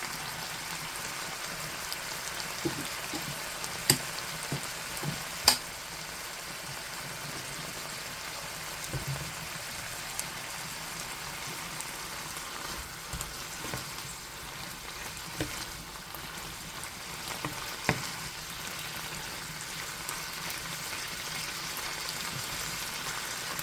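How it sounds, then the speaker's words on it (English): Steady, crackling sizzle of pork frying in a pan, a continuous hiss with occasional sharper pops, close by and fairly quiet. "I like the sound of the sizzling."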